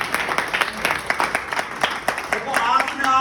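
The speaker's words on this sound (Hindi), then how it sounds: "तो एक बार जोरदार ताली बजाओ अपने लिए" An audience at a Hindi-language gathering gives a round of hearty applause, a brisk run of close, sharp claps that swells slightly toward the end.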